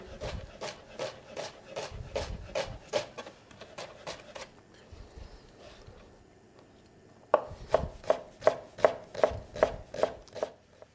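An onion being cut with a knife on a board in a home kitchen: rapid rhythmic chopping strokes in a steady run, a brief pause, then a second crisper burst of evenly spaced chops, close and clear.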